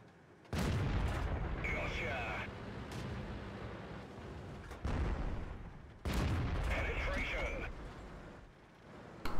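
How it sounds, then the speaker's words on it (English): Tank gunfire in a tank video game, with a Sherman firing, heavy booming blasts with long rumbling tails, two big bursts and smaller thuds, loud and close, mixed with game voice lines. "I think the Sherman 3 just shot."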